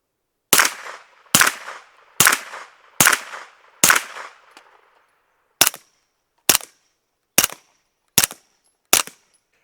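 Springfield Kuna 9mm carbine firing ten rounds, first five 115-grain UMC then five 150-grain Syntech, loud evenly spaced shots close by; the first five ring out longer, the last five sound sharper and drier.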